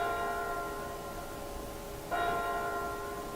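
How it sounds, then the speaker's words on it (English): A bell rings within a live music performance, a single clear strike entering partway through over a sustained bed of soft tonal music, steady and moderately quiet. "Have a bell as well."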